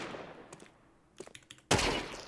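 Counter-Strike gunfire, a few sparse shots, then a short cluster of quick rounds and a sharp louder burst near the end, close and crisp over a quiet background with no talk.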